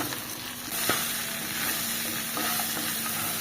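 Water lily stems hit hot oil in a pan and crackle with a steady, close sizzle, with a few louder stir-scrape knocks that break through the continuous frying hiss.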